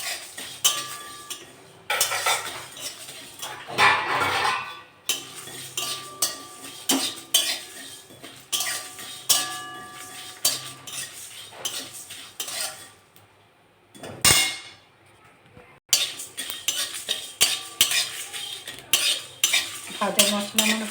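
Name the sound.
stirring dry chilli, fennel and cumin roasting in a pan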